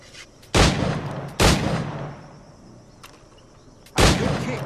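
A flintlock pistol fires in the video game Assassin's Creed Black Flag. Three loud, close booming shots ring out, each trailing into a short decay, and there is no talking.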